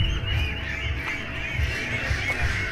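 Ducks (itik) on a breeding farm in Davao City fill the air with a steady, busy chorus of quacking from a large flock, carried over a continuous low rumble of outdoor background noise.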